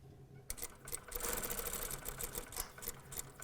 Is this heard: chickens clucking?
no